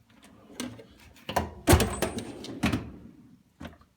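A drawer slides open on a Craftsman 26-inch tool chest, the bottom drawer of the lower chest, with a rolling metal rumble peaking mid-clip between lighter clunks and a short knock at the end.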